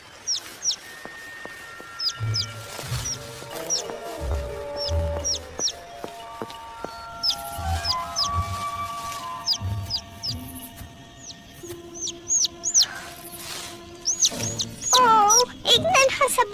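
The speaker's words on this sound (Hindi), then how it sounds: "एक नन्हा सा पंछी।" A small bird in an animated film chirping in quick, high repeated peeps scattered throughout, mixed with music and other cartoon effects.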